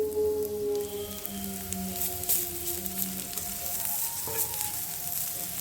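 A paste of onion, garlic and ginger fries in a pan for a drumstick upma, giving a steady close sizzle with crackling pops and a faint tonal hum under it.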